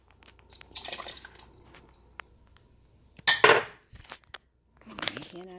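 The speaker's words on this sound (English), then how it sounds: "I'm just mixing a little bit of red wine into the remaining bone broth." Red wine being mixed into leftover bone broth in a kitchen: quiet liquid stirring and sloshing, a few utensil clinks against a pot, and a louder splashing burst midway, fairly close.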